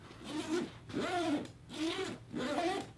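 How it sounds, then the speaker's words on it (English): Zippers on a Goruck GR1 Heritage backpack are pulled back and forth four times, each close, smooth, rasping zip rising and falling in a steady rhythm. "that's really smooth zippers"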